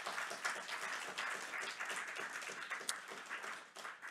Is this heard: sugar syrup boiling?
no